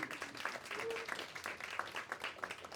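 Crowd clapping for a speaker named Jen at a youth organizing gathering, a moderately close, sustained patter of many hands with a few sharper individual claps standing out.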